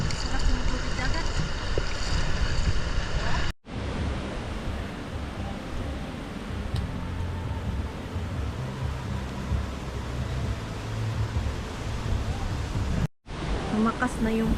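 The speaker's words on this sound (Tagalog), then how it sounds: "Lumakas na yung hangin." Strong wind blowing at the sea, a steady broadband roar with low rumbling gusts buffeting the microphone, continuous and loud throughout with a couple of brief cuts.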